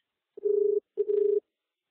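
Two bursts of an incoming phone call ringtone, each a steady electronic tone of about half a second, separated by a short gap and heard alone without talk.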